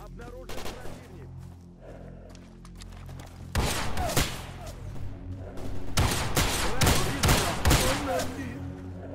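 Gunfire in S.T.A.L.K.E.R. Anomaly: rapid automatic bursts crack out close and loud, a first volley followed by longer, denser rounds of firing, with a voice speaking in between.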